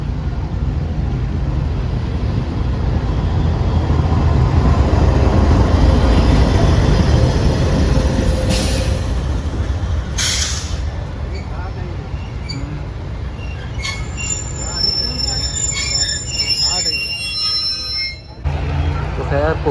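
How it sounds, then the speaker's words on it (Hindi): The Pak Business Express, 33UP from Karachi to Lahore, hauled by locomotive GU40 9005, rolls into a station with a loud, heavy low rumble that eases off, followed by metallic wheel and brake squeals near the end. "GU40 9005 के साथ पहुंच चुकी है 33 अब पार्क बिजनेस एक्सप्रेस।"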